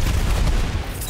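Rapid gunfire from a video game, Rounds, rattles continuously in a dense, loud burst with no clear pauses, close and dominant throughout.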